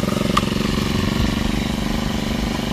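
A small engine-powered pesticide sprayer runs steadily at a low, rough idle, its chugging drone continuous and close throughout.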